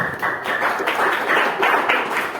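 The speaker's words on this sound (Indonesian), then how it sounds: "tepuk tangan untuk kelompok 3" A classroom of teacher-training students at Universitas Jember applauds for group 3: a steady, dense patter of many hands clapping at once, fairly loud and continuous, with no talk over it.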